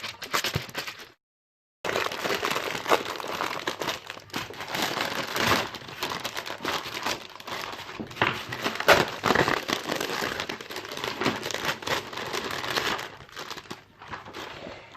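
Plastic foil wrapping on a Christmas-themed building brick set is pulled open by hand, producing repeated close crinkling and crackling rustles over about fifteen seconds, with one brief silent pause near the start.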